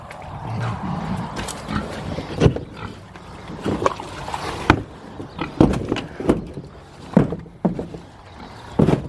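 Irregular grunts and snorts from pigs over a rough, clattering background, with scattered louder bursts and knocks throughout.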